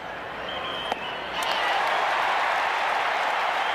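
A baseball crowd at the 1986 NLCS Game 6 sends up a broad, steady roar that swells and stays loud, with a brief sharp knock just before it builds.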